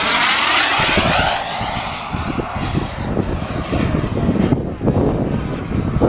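Radio-controlled model aircraft at a model aircraft club show flying overhead, a steady loud engine drone with strong wind buffeting on the microphone throughout.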